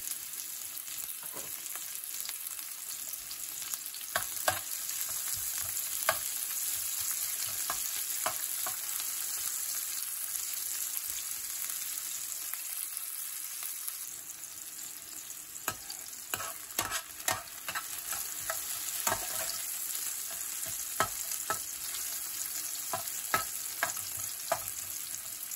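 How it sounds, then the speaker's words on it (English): Finely sliced onions fry in oil in a non-stick high-sided pan, giving a steady, close sizzle throughout with frequent sharp scraping stir strokes and no talk. "In a non-stick high-sided pan, heat the oil and add the finely sliced onions. Fry for a couple of minutes until they start to brown."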